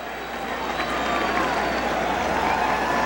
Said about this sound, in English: The sellout crowd at Fenway Park. Everybody rising